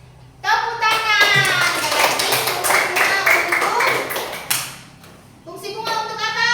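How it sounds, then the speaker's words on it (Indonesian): Children's voices chant rhythmically over a quick patter of hand clapping, nearby and lively, ending with a brief pause before the voices resume. "Tepuk tangan."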